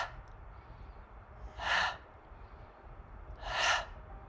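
Two audible breaths out during a yoga flow, evenly spaced about two seconds apart over a quiet room with no talking.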